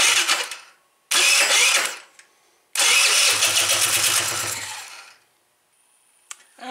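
A Tao Tao small engine with its muffler fitted is cranked and started in three loud bursts, each roaring briefly before cutting out, with a short pause and a clank at the end.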